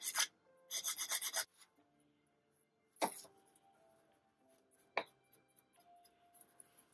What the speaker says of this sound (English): you're going to want to go over it again with your emery board or some super fine sandpaper